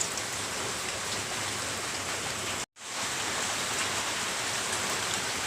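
Mustard oil hisses and crackles steadily in a hot pan as a dense, even sizzle with a brief cut of silence midway.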